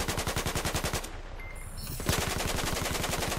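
Sniper fire in Battlefield 4 on the Guilin Peaks map: a single loud crack cuts through steady, rapid automatic gunfire that fills the scene before and after it.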